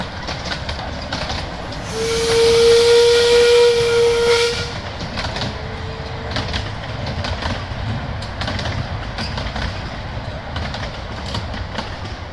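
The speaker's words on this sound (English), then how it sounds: "here's the train again, it's heading back to Rudyard station" A heritage steam train on the Rudyard Lake railway gives a loud, steady whistle for about three seconds, with steam hiss, then carries on running past at a distance with a continuous rumble.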